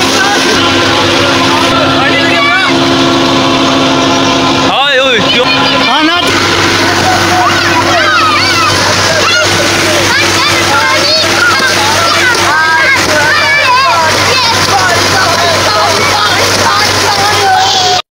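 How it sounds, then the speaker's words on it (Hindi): A village tubewell pumps water while boys splash and bathe beneath it, loud sloshing and spattering close by over a steady pump drone, with excited voices and chatter throughout. "तो ये ट्यूबवेल चल रही है जहाँ पे हम लोगों ने नहाना है"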